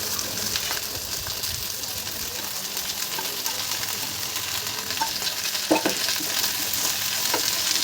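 Diced potatoes frying in hot oil in a pan as they are stirred, a continuous close sizzle with occasional scraping clinks of the spoon.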